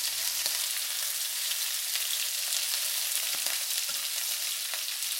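Shell-on shrimp fry in a pan for a ginger onion garlic sauce, a continuous bright sizzle at moderate volume with a few light knocks and scrapes from turning, no talking.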